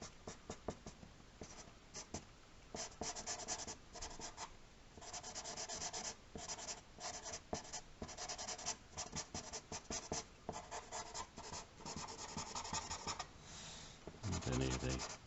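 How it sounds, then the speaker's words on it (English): Colored pencil rubs steadily back and forth over paper, layering and blending light grey over green in a continuous scratchy texture of strokes with brief pauses. "And any of the pencil work that I've put on there, just go over that. And I can keep doing that in layers"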